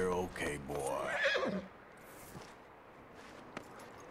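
A horse in Red Dead Redemption 2 whinnies near and loud for about a second and a half, followed by quieter hoof and ambient sounds.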